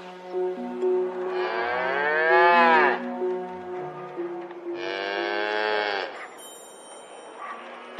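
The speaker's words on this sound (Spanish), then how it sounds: "Las vacas mugen, es lo normal." A cow lowing in two long, loud, drawn-out moos, the first rising and falling over a couple of seconds, the second steadier, with quieter barn noise between and after.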